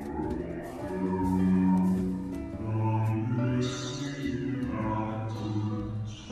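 A pitched-down, deep resonant voice effect for the Aurelionite character in a game, slow droning vocal tones rising and falling, fairly faint and alone.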